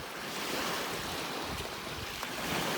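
Waves wash continuously onto a beach along the North Country Trail near Two Hearted River, a broad steady surf roar mixed with gusty wind noise on the microphone.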